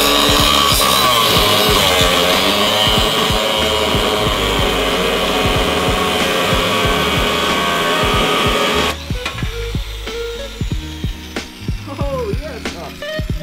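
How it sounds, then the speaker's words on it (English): Angle grinder cutting off a seized coilover part during a car suspension install, a loud continuous buzzing whine for about nine seconds that then stops, leaving scattered clanks and handling noises. "So what we're doing is just grinding it off."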